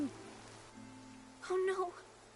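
Steady rain hisses and patters across a video game scene, a continuous wash of falling water with a short vocal sound rising over it near the end.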